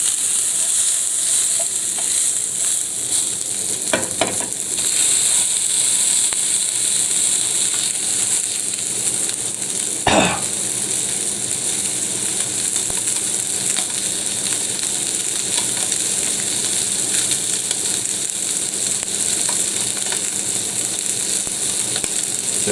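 Ox liver frying in oil, a continuous close hiss and crackle of sizzling fat that runs throughout, broken by a couple of short clattering knocks from the pan or utensil, with no talk.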